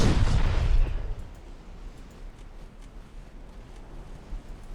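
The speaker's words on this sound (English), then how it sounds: "Torpedoes away. Torpedoes away. Target hit. Target destroyed." Torpedo hits and explosions in the naval combat game Ultimate Admiral Dreadnoughts: one loud, deep blast up front that quickly decays into a low rumbling tail, with no voices.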